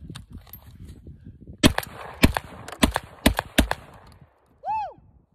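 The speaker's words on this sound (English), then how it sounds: "Bullpup! Shotgun!" Bullpup shotgun firing outdoors in cold weather, six sharp loud blasts in quick uneven succession with echo, after murmured voices, then a brief whoop.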